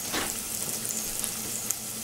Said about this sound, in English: I'm going to add a cup of coconut milk